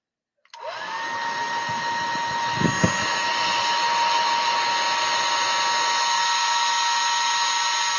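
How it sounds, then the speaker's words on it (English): A hair dryer switches on and blows chalk paint dry on a small wooden block. It makes a steady, close, loud whirring hiss that runs unbroken after a brief click and a couple of soft knocks. "Should probably blow it dry real quick."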